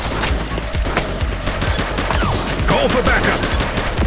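Rapid gunshots in the police game The Precinct ring out loud and close in dense overlapping bursts, mixed with radio chatter and a voice calling out during the firefight.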